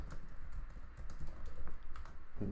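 Rapid clicking of typing on a computer keyboard, an irregular run of close, moderately loud keystrokes with no talking.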